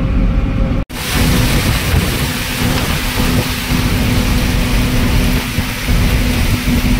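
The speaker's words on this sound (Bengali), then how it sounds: "জোর পরিমাণে বৃষ্টি শুরু হয়ে গেছে" Heavy rain pours steadily on a national highway between Kolkata and Malda, with a low thunder rumble and passing traffic in a constant loud wash, broken by a brief cut near the start.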